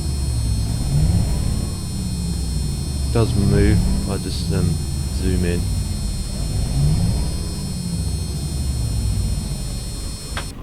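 Magirus Deutz 19/22D truck engine idling in Euro Truck Simulator 2, a continuous low diesel rumble and hum throughout, with someone speaking briefly over it in the middle.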